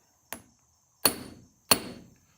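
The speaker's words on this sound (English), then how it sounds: "you're going to take your trusty little hammer and you're just going to give a whack on the rivet" A small hammer strikes a rivet on an Edison phonograph governor three times, sharp close metallic taps with short ringing decay, the first lighter, then two firmer blows spaced about two-thirds of a second apart, in an otherwise quiet room.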